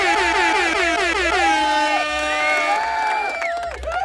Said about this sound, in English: An air horn.